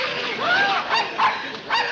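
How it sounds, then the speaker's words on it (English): A dog in the Beverly Hillbillies TV sitcom gives a quick series of yipping barks and whines, loud and close, in about four short bursts. "That vicious dog is going to attack me."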